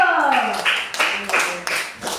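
Classroom pupils clap their hands together in a short series of sharp claps mixed with young voices chanting or talking over them.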